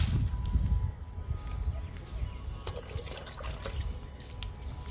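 Cooling liquid poured onto vinca plants in a summer garden, a close splashing and dripping of water into soil and pots, continuous and moderate in level.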